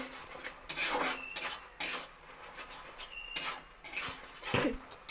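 Sugar being stirred in a pan until it melts: a series of close, uneven rasping scrapes of a utensil against the pan, each a second or so apart, with quieter gaps between and no talk.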